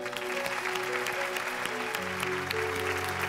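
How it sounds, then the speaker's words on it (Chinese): A studio audience on a Chongqing TV talk show claps for a young woman, sustained even applause under a faint background music hum. "给你掌声。"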